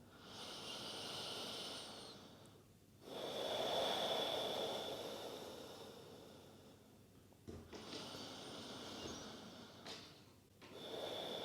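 Slow deep breaths during a yoga flow, long soft hissing inhales and exhales close to the mic, quiet, with brief pauses between them and no speech.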